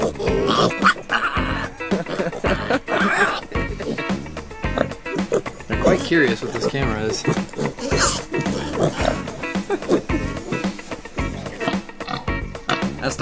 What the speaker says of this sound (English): That's the Papa Pig.